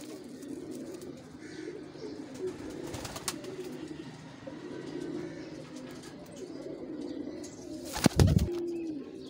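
Pigeons in a mixed group of hens and cocks coo softly and repeatedly, with low murmuring calls against a quiet background and a brief louder rustle near the end.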